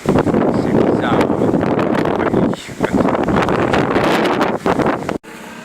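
Strong wind blows near a skyscraper, buffeting the microphone in loud, sustained gusts that drop briefly midway and cut off abruptly near the end.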